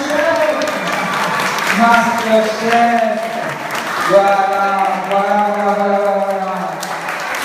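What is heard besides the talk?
audience applause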